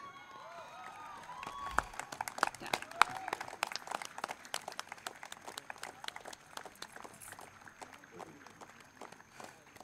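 Audience applause for an award winner at a design institute convocation in Pune, a steady spatter of many hands clapping, fairly distant and moderately quiet, continuing for several seconds.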